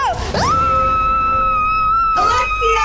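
A person shrieks loudly, with a sharp sliding cry at the start and then a long, sustained high-pitched wail, close and harsh, ending in another burst of vocal noise.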